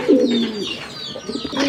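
Pigeons at a market stall coo nearby in a low, throaty burble, one call swelling at the start and another softer coo near the end, over faint background chatter.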